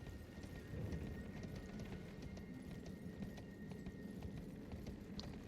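Quiet, steady hoofbeats of a galloping horse in Elden Ring pound continuously with a low rumble and a faint background tone.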